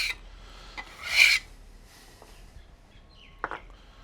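A dough scraper rasps across a board pushing chopped mirepoix vegetables aside, a short close scrape followed by a couple of light knocks.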